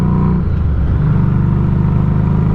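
A Harley motorcycle engine idles loud and close, its deep, steady, throbbing rumble running without a break.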